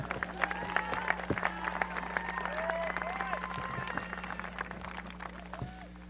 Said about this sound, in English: You can applaud that.